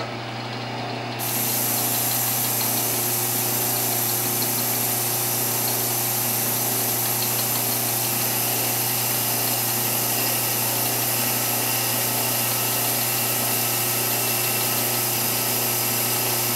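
A machine bores out an intercooler pipe with a loud, steady mechanical whine and hum that runs unbroken at close range, with no talking.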